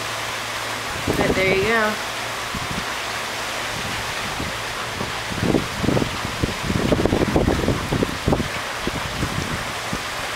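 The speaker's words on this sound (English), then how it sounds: "Look, ah, the rain's coming in here." Storm rain and gusting wind from Hurricane Irene sweep steadily through a garden in the evening, a broad continuous wash with louder bursts of gusts, while a person talks briefly over it.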